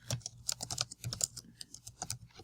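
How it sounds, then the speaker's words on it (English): Rapid, irregular typing on a computer keyboard, close and clear, with a steady stream of light clicks and taps and no voices. "you can click on it, and you can just start typing"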